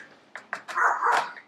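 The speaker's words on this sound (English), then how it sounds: "My dog's barking." A dog barks indoors, a few short separate yips followed by a longer drawn-out bark, moderately loud with no talking over them.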